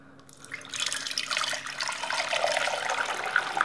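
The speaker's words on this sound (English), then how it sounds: "Pour this in and I'll probably get water everywhere first time testing this out." Water is poured from a container, splashing and gurgling as it fills and drains, starting quietly and growing into a steady rushing pour nearby, with no talking.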